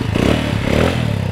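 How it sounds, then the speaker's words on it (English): A small 200cc Amigo Jasscol trike built as a Can-Am clone revs its engine close by. The loud, steady exhaust drone swells and falls gently under the throttle and runs alone, with no talk over it. "Give it a little throttle right now so you can hear that."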